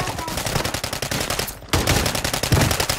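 Rapid automatic gunfire fills a video game round as a continuous, loud clatter of closely spaced shots, broken once by a brief gap before resuming.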